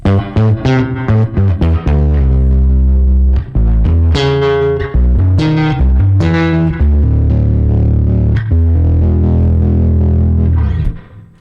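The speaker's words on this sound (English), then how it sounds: "Classic guitar player thing, playing chords on bass." Chords strummed on a bass guitar through an effects preset with distortion, loud and continuous, with repeated attacks and a few short gaps, heard alone without talk.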